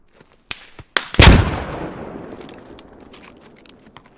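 Gunfire in the video game Squad: one heavy, close shot booms and rolls away in a long fading echo, framed by scattered lighter clicks and pops before and after.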